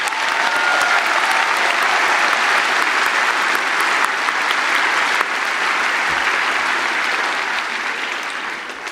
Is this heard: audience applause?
yes